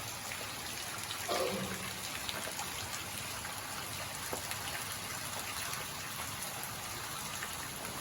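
Steady evening rain falls in a village in Laos, a soft continuous hiss of drops that stays even and fairly faint throughout, with a brief slightly louder patch early on.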